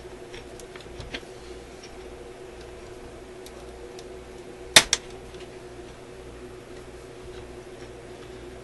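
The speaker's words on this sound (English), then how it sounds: "That was the sound of one of the tabs breaking off." A small tab on an Electrohome AM clock radio snaps off during alignment, heard as one sharp crack followed by a smaller click, with faint tapping and handling before it in a quiet room.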